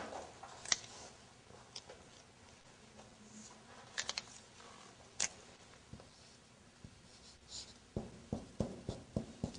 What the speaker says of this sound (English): Okay, I will write down.